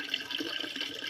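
Water from a leaking tap runs into an empty drum at night, making a continuous, hissing splash with small gurgles, close by and steady.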